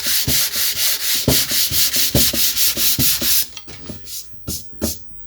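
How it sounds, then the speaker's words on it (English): Rhythmic strokes of sandpaper on the wooden case of a 1963 Biennophone Verbier 6303/03-HE Swiss radio, steady and close for about three seconds, then slowing into a few separate rubs. "I'll continue sanding it back."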